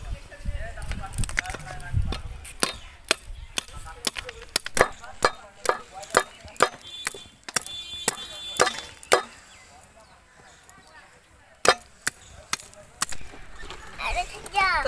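Raw bael fruit is peeled by hand, its hard woody shell producing a run of sharp, irregular cracks and snaps, close and fairly loud, with scraping between the hits and a voice in the background.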